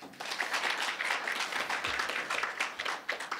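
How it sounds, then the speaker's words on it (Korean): Audience applause at a science and policing forum after a presentation by a Daegu autonomous police committee official, continuous room-wide clapping at moderate volume, steady throughout. "큰 박수 보내주시면 감사하겠습니다"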